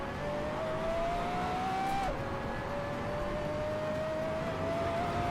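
A steady, droning race car engine tone in Assetto Corsa holds nearly level throughout, dipping briefly partway as if shifting gear, over a constant rumbling roar.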